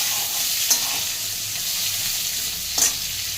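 Boiled papaya pieces fry in hot oil in a pan, a steady broadband sizzle running throughout with two brief utensil scrapes or clinks standing out, close and moderately loud, no talking.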